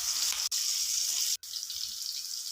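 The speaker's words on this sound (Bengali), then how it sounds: "নুন দিয়ে এইভাবে আলুগুলো ভালো করে ভেজে নিতে হবে" Potatoes frying with salt in hot oil seasoned with ajwain, a steady close hiss broken by two brief gaps, with no talk.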